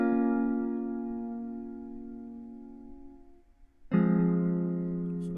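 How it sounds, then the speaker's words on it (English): A sustained Omnisphere synthesizer chord with rich harmonics fades down, cuts off briefly, then returns loud and full, ringing on alone. "I used Omnisphere to create this chord"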